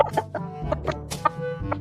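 A chicken clucks close by in a quick run of short, bright, throaty calls, fairly loud and uneven in rhythm, with no talk over it.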